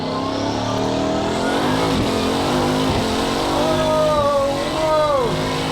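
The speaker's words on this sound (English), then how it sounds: "Relentless in that way that only Bugattis are. The acceleration just doesn't stop." Bugatti Bolide W16 hypercar accelerating hard on a rolling launch out of the pits, its engine note climbing loud and close and rising steadily through several gear changes, with a brief exclamation over it.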